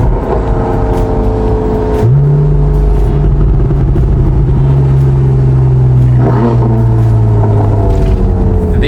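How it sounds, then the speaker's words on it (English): Engines of a BMW M4 and a Porsche 911 rumbling loudly up close, with a steady droning tone that rises as one engine revs, holds, then shifts pitch, with no talking. "this M4 sounds amazing. And also the Porsche"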